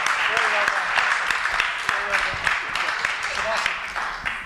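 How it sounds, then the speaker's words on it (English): Audience applause for the panelists at the close of a panel on aviation manufacturing and operations, dense steady clapping filling the room with a few voices and whoops rising over it. "let's give a round of applause to our panelists"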